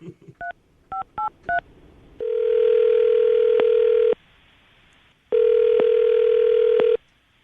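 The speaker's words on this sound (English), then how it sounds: "I'm going to dial the phone number right now." A telephone keypad plays a quick series of DTMF dialing beeps, then a steady dial-type tone sounds in two long stretches separated by a short gap, loud and close with no talking.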